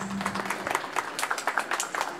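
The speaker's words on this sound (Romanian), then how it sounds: "Pentru moșii noștri, un set de aplauze" Wedding guests clapping for the godparents, a lively cluster of handclaps with distinct individual claps popping out of a steady applause bed, fairly close.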